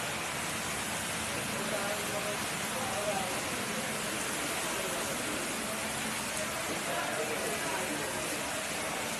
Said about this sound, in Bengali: এত বৃষ্টির জল পড়ছে দেখো।